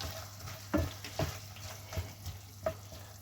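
Pork gravy stirred in a pan with a wooden spoon, gentle scraping strokes and a few soft knocks over a faint bubbling sizzle, quiet and close, about five strokes in a few seconds.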